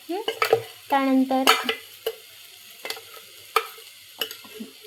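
Spices sautéed in oil over low heat, heard as irregular spatula scrapes and knocks against the pan, with one brief squeaky drag, over a faint, quiet sizzle and no talk.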